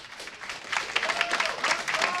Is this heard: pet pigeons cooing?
no